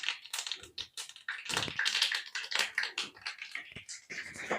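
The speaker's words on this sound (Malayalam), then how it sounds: "എണ്ണ ചൂടായി വന്നിട്ടുണ്ട്. കടുക് ചേർത്ത് കൊടുക്കാം." Mustard seeds spluttering in hot coconut oil in a pan, a dense run of sharp close pops and crackles in quick irregular bursts, fairly quiet, with no voices.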